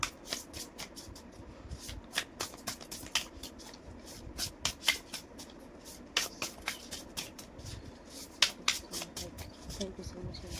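Tarot cards being shuffled in a steady run of crisp riffling bursts and soft slaps, close and fairly loud, with quiet room tone beneath and no talking.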